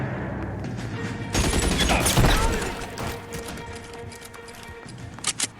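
Gunfire in the video game L.A. Noire, a loud dense burst of shots lasting about two seconds over a busy game soundscape, then fading to scattered sounds and a few sharp late hits.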